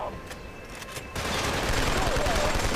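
Sustained automatic gunfire in the shooter game Killzone 2, with a quieter opening before a dense, continuous barrage takes over for the last half and stays loud to the end.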